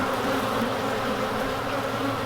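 Honeybees at an open hive during a queen introduction, a dense, loud, continuous buzzing of many bees close by with no talk.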